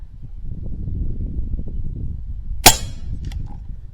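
A single sharp shot from a Skout EVO .25 caliber air rifle firing an H&N slug, a loud, close crack followed by a faint distant impact, over a low outdoor rumble.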